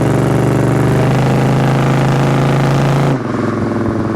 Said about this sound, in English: Let y'all hear the exhaust again.